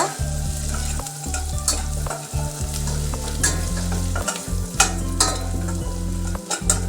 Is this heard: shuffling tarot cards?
no